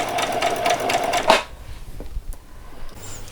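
A sewing machine stitches around the edge of a dress in a steady, fast rapid-fire run of needle strokes, close and fairly loud, stopping abruptly partway through to leave a quiet room with faint handling noises.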